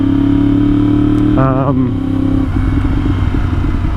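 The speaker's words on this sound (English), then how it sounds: "This bike has such an ample amount of insane freaking power that I don't feel like I'm utilizing more than maybe a tenth of it ever." A 2017 Yamaha R1 sport motorcycle engine runs steadily while riding, a loud continuous drone with a brief pitch sweep of shifting revs in the middle, under the rider's talk.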